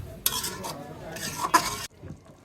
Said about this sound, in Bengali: দিয়ে দিচ্ছি কাঁচামরিচ, দিয়ে দিচ্ছি রোস্টের মশলা, ভালো করে নেড়ে একটু মিশিয়ে নিচ্ছি।